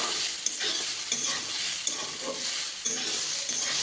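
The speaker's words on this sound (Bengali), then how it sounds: "শাকটা আমার হয়ে গেছে ভাজা, এবার নামিয়ে নেব।" Kalmi greens (water spinach) sizzle and crackle in a pan, with steady frying hiss and repeated stirring scrapes throughout, close up and with no voices.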